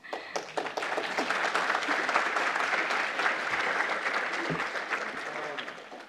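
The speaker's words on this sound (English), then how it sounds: "applause" Audience applause at a tech conference talk on zero-downtime migrations in a SaaS project, a steady dense clapping that rises quickly and holds for several seconds before tapering slightly, heard alone without talk.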